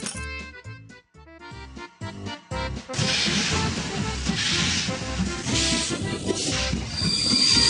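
Train sounds from a kids' racing video game: a short musical jingle gives way to a loud, continuous rolling train with hiss and squealing wheels.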